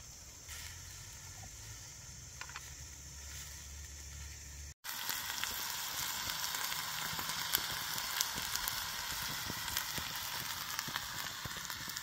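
Onions sautéing in a pan during a windy, rainy hammock camp, a faint steady sizzle that cuts out briefly and then returns louder with crackling pops.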